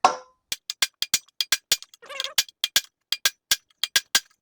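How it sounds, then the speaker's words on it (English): Steel punch driven by hammer blows to knock a rivet out of a 1959 Chevrolet Bel Air lower A-arm, about twenty sharp metallic strikes in steady rhythm, close and loud, with a brief scraping rattle midway. "I'm just going to take the punch and drive the rivet through"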